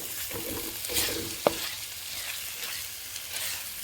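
Ginger garlic paste frying in a pan, a soft steady sizzle with a few stirring scrapes and one sharp clink of a utensil near the middle, close and fairly quiet.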